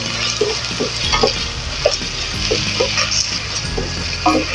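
A rice porridge (lugaw) mixture with sticky rice is stirred in a pot, giving soft scraping and knocking strokes over a low steady background hum, close by, with a faint voice-like murmur underneath.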